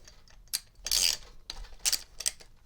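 A brake caliper comes off a road bike with close, quiet mechanical clicks and a few short metallic rattles and scrapes, irregular and unaccompanied by talk.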